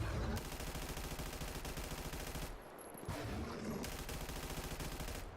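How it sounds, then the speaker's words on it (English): A PPSh submachine gun firing in a survival shooter game, rapid sustained automatic bursts close and loud, with a brief pause midway before firing resumes. "And that is why we love the PPSH."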